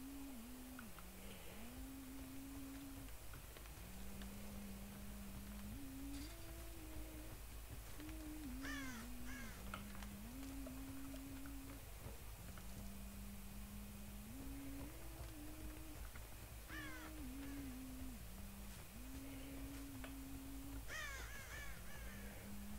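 Crows cawing in a video game, repeated short harsh calls scattered through the scene over a steady low game backdrop and soft tonal music, fairly faint and distant.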